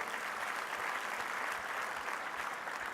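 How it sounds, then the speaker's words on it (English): Steady conference audience applause fills the whole stretch, many hands clapping at once in a dense, even wash of sound with no speech over it. "Please give him a round of applause."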